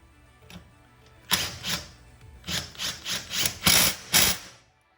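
Removing the bolt and cover from a Hitachi NR83 nailer, a run of close metallic clicks, knocks and scraping handling sounds in short bursts after a quiet start, with no talking.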